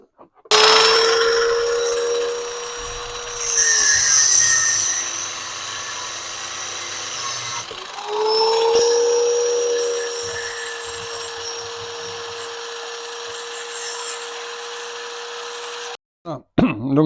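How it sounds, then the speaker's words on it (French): Power tool cutting short pieces of threaded rod, a loud whining high-pitched cut with a steady tone that dips and rises, pausing briefly midway, then stopping abruptly. "j'ai coupé mes deux petits morceaux de tige filetée"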